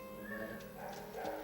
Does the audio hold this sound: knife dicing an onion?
no